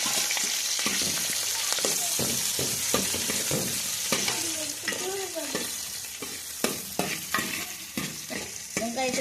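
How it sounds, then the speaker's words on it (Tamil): Onions and green chillies with cinnamon, cloves and cardamom fry in hot oil and ghee for chicken biryani, a loud close sizzle broken by repeated scraping stirs and clatter of the spoon. "எண்ணெய் நல்லா காஞ்சிட்டுமா, அதில் பட்டை, கிராம்பு, ஏலக்காய் எல்லாம் போட்டு வதக்குதம்மா. வெங்காயத்தையும் மிளகாயும் போடுதம்மா."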